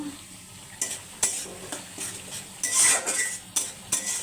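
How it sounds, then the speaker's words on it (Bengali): Spices with ginger-garlic paste sizzle in a pan while a utensil stirs and scrapes the metal in repeated strokes, close and clear, with steady frying hiss beneath. "এবার ভালোভাবে কষিয়ে নেব।"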